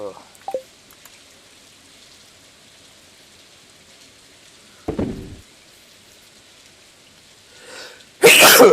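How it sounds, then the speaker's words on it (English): A person has a sneezing fit, with three loud, close sneezes spaced several seconds apart and near silence in between. "still having a sneezing fit"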